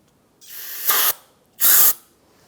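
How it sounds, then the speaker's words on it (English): Brake cleaner is sprayed into a Toyota RAV4 front brake caliper in two close, loud, hissing bursts of about half a second each, separated by a brief pause. "I'll spray it in there."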